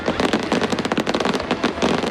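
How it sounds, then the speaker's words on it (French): Roman candle fireworks fire in a fast, dense burst of sharp pops and crackles, loud and close, like rapid gunfire over about two seconds. "On est en train de terminer toutes les chandelles romaines à un tir."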